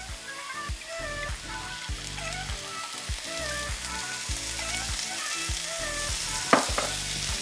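Asparagus frying in extra virgin olive oil in a pan over low to medium-low heat, a steady close sizzle and crackle with a rhythmic musical beat running underneath.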